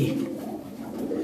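Breeder pigeons with heavily feathered, hairy feet coo in a low, continuous murmur at close range, their soft throaty calls blending into a steady hum.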